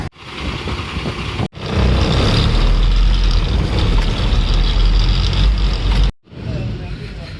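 A truck engine runs loud and close at a steady rumble, cut by two brief gaps, before the vehicle pulls out.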